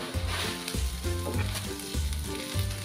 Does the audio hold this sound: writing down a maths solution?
no